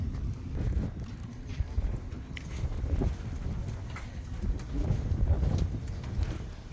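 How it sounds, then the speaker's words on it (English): Strong wind buffeting outdoors near Yellowstone's Roosevelt Arch in Gardiner, a continuous low rumbling roar with gusty swells and scattered knocks, steady throughout with no talk. "So windy."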